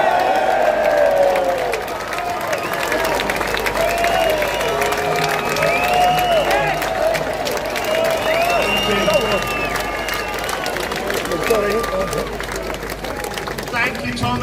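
A large outdoor crowd cheers and applauds at a London rally in July 2024, a dense sustained roar with whistles and shouts throughout.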